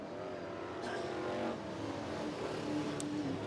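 Race cars in the AMCA Nationals A-Main at Lismore Speedway, a dirt speedway, roar around the track. The engine drone is distant and steady, rising and falling slightly as cars pass.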